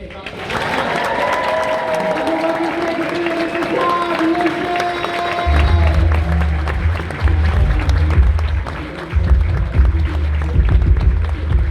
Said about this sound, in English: I'm going to get clap and cheer absolutely wild for Mr. Tom Lucy.